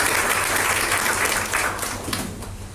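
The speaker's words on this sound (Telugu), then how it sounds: "మరొకసారి చప్పట్లు కొట్టుదామండి పాస్టర్ గారికి." Applause for the pastor at a Friday church worship service in Hawally, Kuwait: dense, steady crowd clapping that holds loud and even before easing slightly toward the end, with no voices over it.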